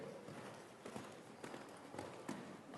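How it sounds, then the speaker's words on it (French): Horse cantering during a riding lesson: a quiet, steady three-beat rhythm of hoofbeats on soft footing, heard from a distance over low background noise. "Prends du galop"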